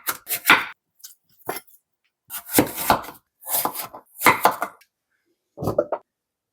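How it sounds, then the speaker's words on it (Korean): Scallions are cut with a knife on a board in several short bursts of quick, crisp chopping strokes, close and clear, separated by brief pauses. "쪽파는 5, 6cm로 썰어 주시면 돼요."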